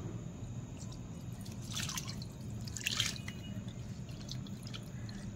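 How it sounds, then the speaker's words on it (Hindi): Tempering water is poured quietly over dhokla, with soft dripping and trickling patters over a low steady background hum. "अब हम इसे इसके ऊपर डाल देंगे।"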